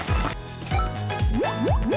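Cartoonish dripping and squishy liquid effects repeat in a quick rhythm, each a rising bloop, as batter is poured into a waffle maker in the cooking game Waku Waku Sweets. The effects are close and clear and no one speaks.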